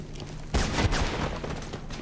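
Gunfire in the video game Mirror's Edge: a sudden dense burst of rapid shots that keeps rattling for about a second and a half, fairly loud with a noisy, reverberant tail.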